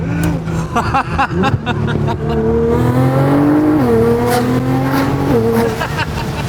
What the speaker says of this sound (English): it's just exactly what you want to hear with a turboed car